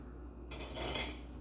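A spoon is picked up from among dishes in a kitchen, making a short, close metallic clatter of cutlery against pots and plates that rises sharply after a quiet moment.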